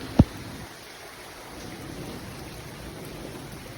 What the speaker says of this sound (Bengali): দেখেন কি পরিমাণে বৃষ্টি হইতেছে অনেক বৃষ্টি হইতেছে অনেক